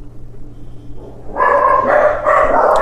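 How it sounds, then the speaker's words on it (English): Dogs bark in the background, a few loud overlapping barks and yips starting partway through after a quieter stretch of low room hum. "Please ignore my dogs in the background."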